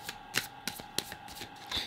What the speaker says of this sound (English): I feel like I got a rip shuffle for you again.